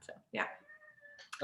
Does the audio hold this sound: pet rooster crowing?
no